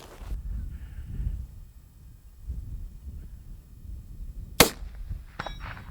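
Rifle shots strike steel gongs at an outdoor shooting range during a firearm demonstration: after a quiet stretch, two sharp cracks land late in the clip, each followed by a brief metallic ring.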